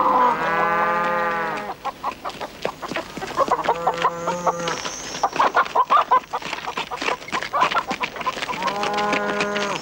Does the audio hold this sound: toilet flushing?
no